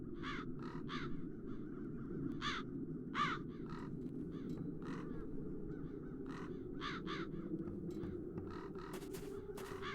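Crows caw repeatedly in The Dark Eye: Chains of Satinav video game, with many short harsh calls scattered throughout, some overlapping, above a steady low ambient drone and music bed.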